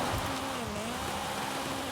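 Steady rain hisses continuously across a racing video game scene, with a low engine-like hum running underneath and no talking.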